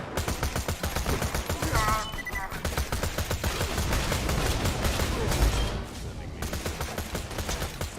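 Rapid, loud gunfire in Borderlands 2 with a powerful shotgun, dense repeated blasts that ease briefly in the middle before resuming, with some game voice mixed in.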